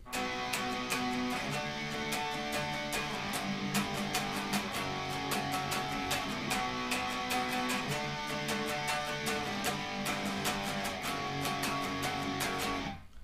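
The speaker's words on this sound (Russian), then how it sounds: "Песня начинается со вступления, здесь звучат две гитары" Two electric guitars play a busy intro together, strummed chords under a picked melodic line with a steady driving rhythm, no singing or talk.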